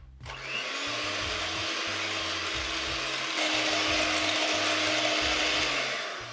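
Electric hand mixer whisking milk into homemade cupcake batter made with margarine, a steady mechanical whir with a rattling, pulsing low beat running throughout, close and fairly loud with no talking.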